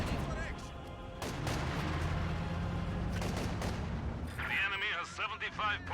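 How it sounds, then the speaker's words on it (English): High explosive artillery barrage in Company of Heroes 2, with rumbling booms and blasts rolling over one another amid battlefield noise, while a commentator talks over it. "Iron for high explosive barrage onto the Maxim"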